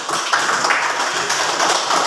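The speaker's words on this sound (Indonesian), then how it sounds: "Tepuk tangan untuk yang bertanya dan menjawab semua" A classroom of students claps their hands together in a steady, dense patter that runs the whole time, fairly close and loud, with no voices standing out over it.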